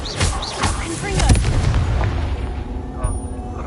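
Blasting spell explosions in the Hogwarts Legacy video game boom in several heavy bursts, the biggest near the middle, with crackling debris and game sound effects around them.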